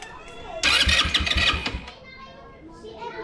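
Small engine being cranked to start, a burst of loud rapid turning lasting about a second, then falling away, with people talking around it.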